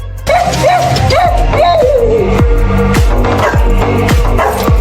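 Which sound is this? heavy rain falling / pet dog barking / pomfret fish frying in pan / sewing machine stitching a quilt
pet dog barking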